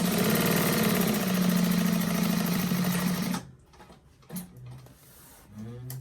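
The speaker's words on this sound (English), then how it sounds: "I'm going to go ahead and sew that all the way across" Close, loud sewing machine stitching a seam across the bottom of a handmade bag, a fast steady mechanical rattle that stops abruptly midway, followed by a few quieter handling sounds.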